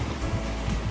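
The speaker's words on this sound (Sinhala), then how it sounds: "අද රැල්ල සැරයි." Rough open-sea waves beside Wellamankaraya fishery harbour give a loud, continuous wash of surf with low rumble, heard close and alone in a brief burst.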